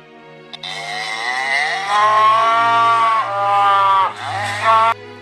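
A cow moos as a sound effect: one drawn-out, wavering moo, loud and close, rising in the middle and breaking off abruptly at the end over a faint steady hum.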